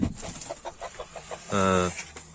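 Close poultry calls: a run of short rhythmic honks followed by one longer, louder nasal honk, with background noise.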